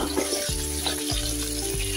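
Sliced leeks tipped into about two tablespoons of hot olive oil in a pan, crackling and sizzling steadily up close, with a few soft clinks and stirring sounds and no talking.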